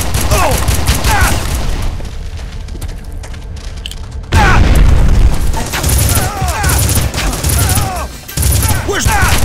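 First-person shooter gameplay in Red Faction: rapid bursts of gunfire and booming explosions fill the mix continuously, with a sharp loud surge midway, while a voice cries out over the chaos.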